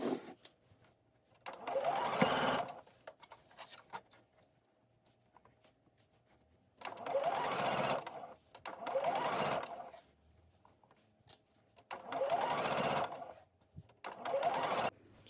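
A sewing machine stitches in the ditch along a bias finish on a garment bodice, running in four steady bursts of a few seconds each with quiet pauses between, close and clear.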